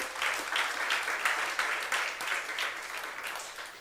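Church congregation at a young adults' service clapping steadily for a few seconds, a dense, even wash of many hands.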